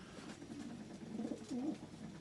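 A racing pigeon, a national distance bird, gives soft low coos close by over a murmuring background, a few short throaty warbles near the end.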